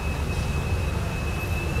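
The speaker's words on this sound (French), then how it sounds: "je sais pas si vous entendez le bruit du moteur" Electric motor of a small tour boat cruising a Bangkok canal, a steady low hum and rumble with a faint high whine, continuous and close throughout with no talking.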